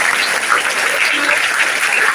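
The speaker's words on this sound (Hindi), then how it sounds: "मैं बच्चों से गुजारिश करूंगा कि एक बार जोरदार तालियां अशरफ साहब और आयशा जी।" Schoolchildren in a large audience at Al-Ameen School clap loudly and steadily during a shoe and sock donation event, a dense wash of applause that fills the whole moment without pause.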